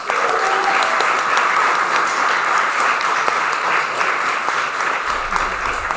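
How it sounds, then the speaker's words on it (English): A room of league players claps for a rookie at a spring league awards night, sustained loud applause from many hands with faint voices underneath. "But round of applause for Mark Swinburne."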